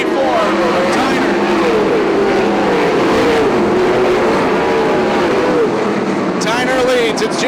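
Western sprint cars race at Sunset Speedway Park, with loud engines whining and rising in pitch as they roar past, and a track announcer talking over the noise.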